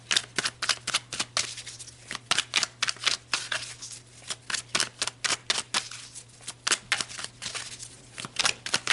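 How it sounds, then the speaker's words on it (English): Tarot cards are shuffled close up in a quick, steady run of crisp riffling snaps and flicks, dozens of sharp bursts repeating without pause and no talking. "So let's pull some more cards."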